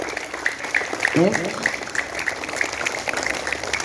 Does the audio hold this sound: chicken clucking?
no